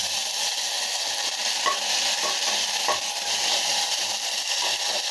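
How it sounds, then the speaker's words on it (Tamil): Curry leaves dropped into hot oil while making potato podimas, a loud, steady crackling sizzle with soft scraping of a spoon stirring the pan, close and continuous with no talk. "இப்போ கருவேப்பிலை போடுறாங்க."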